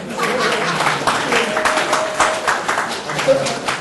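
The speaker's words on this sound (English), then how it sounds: "Can we get a round of applause for Shelley?" Audience applause at an evening of storytelling and comedy, a crackling burst of many hands clapping with some voices mixed in, steady and fairly loud.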